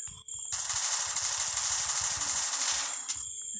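Rapid automatic gunfire in the video game Free Fire, a dense sustained burst of shots lasting about two and a half seconds, loud and close, starting abruptly after a brief quiet moment.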